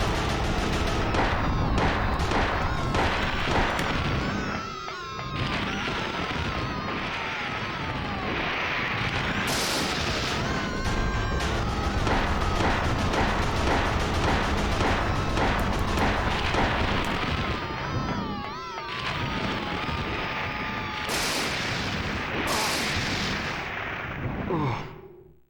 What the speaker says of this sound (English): And now he's shooting at it.